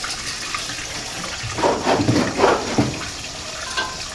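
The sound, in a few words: gasoline poured into 1929 Ford AA tow truck's cowl gas tank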